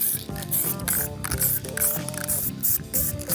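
Spray paint hissing from an aerosol can onto an easel outdoors in windy conditions, short bursts under a busy background of music-like tones.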